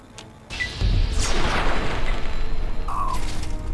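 Fallout 3 game combat, a heavy booming blast followed by a sustained roar of rumbling noise and debris, loud and close, with a brief electronic whine near the end.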